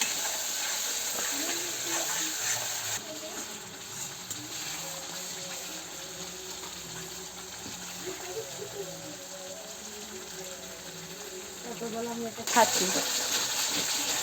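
Chicken gravy simmering in a pot on a desi clay stove after water is added, a low hissing, bubbling sizzle running throughout under someone speaking, with a brief clatter toward the end.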